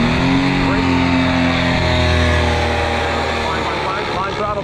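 A paramotor engine roars loud and steady at full throttle during takeoff, a constant droning buzz with strong rumble, close to the listener, with a voice shouting over it.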